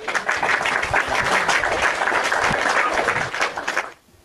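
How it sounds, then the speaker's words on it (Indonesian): Audience applause welcomes a guest onto a heated live online debate show: a dense, loud burst of clapping that holds steady for about four seconds, then cuts off abruptly. "Kita kasih tepuk tangan dulu Nimairu."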